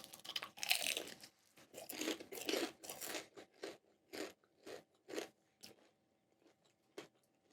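Someone bites into a crab rangoon from P.F. Chang's, eaten plain without sauce, and a sharp crunch is followed by a run of close, crisp chewing crackles that slowly spread apart and fade.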